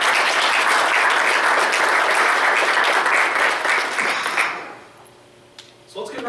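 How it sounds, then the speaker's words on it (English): An audience at a mayoral debate applauds, loud and dense clapping lasting about four seconds before tapering off, followed by a quiet pause and the start of speech. "so give him a round of applause."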